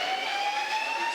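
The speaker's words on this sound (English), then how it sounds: "with the lights blinking and the siren blaring" An arena siren blares during tests at a hockey rink, a steady sustained tone that is loud and unbroken across the whole moment, with a faint low thump near the end.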